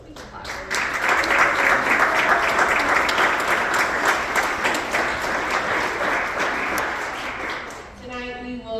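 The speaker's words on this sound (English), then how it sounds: "We can clap for them." Audience applause at a PTA school board candidate forum in Ozark, a full steady round of clapping filling the room at even loudness, then tapering off near the end as a voice begins.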